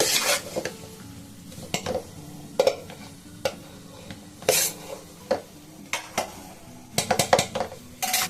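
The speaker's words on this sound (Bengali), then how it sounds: "এইভাবে একটুখানি তলাগুলোকে এভাবে মিশিয়ে নেবেন" Fried rice stirred around a pan, with repeated scrapes and clinks of a utensil against the metal over a soft sizzle, close and fairly loud, in irregular bursts.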